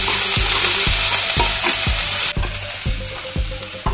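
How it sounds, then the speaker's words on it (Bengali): Garlic paste frying in hot oil at low heat, a steady close sizzle with regular scraping strokes of a spoon against the pan roughly every half second. "তেলের ভিতরে রসুন বাটাটা দিয়ে দিচ্ছি, রসুন বাটাটা একটু হালকা ভেজে নেবো"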